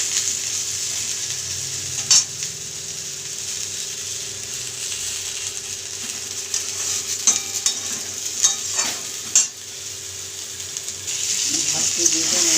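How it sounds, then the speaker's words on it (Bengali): Tomato, green plantain and vegetable stems fry in a pan for a bitter sukto, giving a steady, close sizzle with a few sharp stirring clicks and scrapes scattered through it and no talk. "এগুলো সব হালকা করে ভেজে নেব।"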